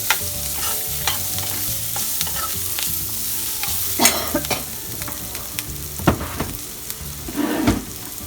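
Tempering sizzling in a pan for flattened rice upma, with turmeric about to be added: a steady, close fry hiss with repeated scraping stirs and occasional louder clatters of a spoon against the pan.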